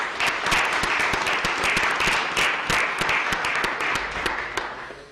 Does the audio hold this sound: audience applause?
yes